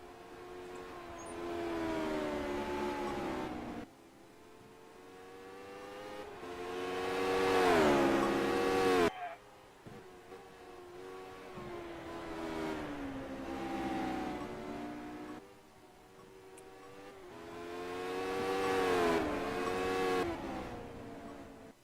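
Atom V8 race cars lapping in a racing video game, engine notes rising and falling as the cars pass in repeated waves, revving up and cutting off between laps.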